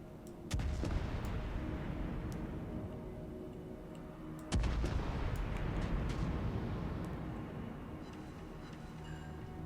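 Battleship guns fire in the World of Warships naval game, two heavy booming salvos several seconds apart, each followed by a long rumbling decay, fairly quiet overall and with no talk.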